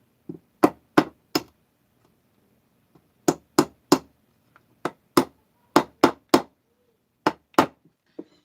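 Hammer knocking a bearing's outer race into a Stihl 026 Pro chainsaw crankcase: sharp, clear metallic knocks in short bursts of two to four, about fourteen strikes with pauses between, close and alone.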